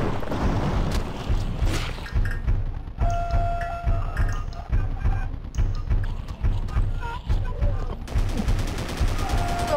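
Rapid bursts of AK rifle fire from the video game Afraid of Monsters crack in repeated rhythmic volleys, loud and dense, with brief pauses between the strings of shots.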